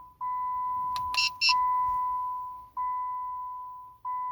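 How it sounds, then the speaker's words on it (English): A steady electronic beep tone from a 2011-2014 Chrysler 200 confirming key fob programming repeats three times in long sustained pulses, with a brief higher chirp near the start; no talking. "wait for a few seconds until you hear the beeping sound indicating programming is successful"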